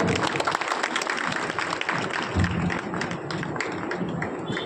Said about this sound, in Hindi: तालियां बजाते रहिए सर